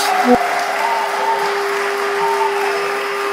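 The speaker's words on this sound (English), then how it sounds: "give another hand of applause" Continuous applause from a convention crowd, steady and fairly loud, with a faint tone running underneath.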